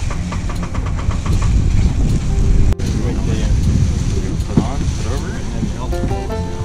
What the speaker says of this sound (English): we're taking a sailboat ride on a catboat